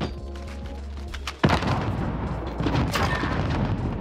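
A grenade explodes in Modern Warfare with a sudden loud blast partway through, after quieter game ambience, and the roar and debris rumble keep going afterward.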